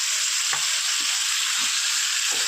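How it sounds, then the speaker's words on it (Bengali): Dried Bombay duck fish frying in a pan gives a steady, close, hissing sizzle, broken every half second or so by soft stirring scrapes, with no voices. "শিঙি মাছটা দিয়েও বেশ কিছু সময় ধরে ভেজে নেবো লাল করে"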